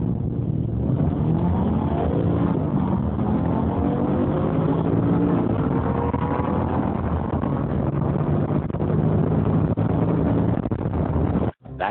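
Mercedes car in a quarter-mile drag race roars under hard acceleration, engine pitch climbing through gears in a sustained loud run, with wind buffeting and a sudden drop at the very end.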